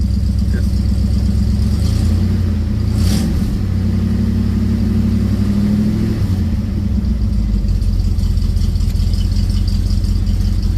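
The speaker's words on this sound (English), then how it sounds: "but I can hear the fan in here." A steady cooling fan whirs over the low, constant idle of a 1967 Chevelle engine, a continuous close drone with no clear changes in pitch.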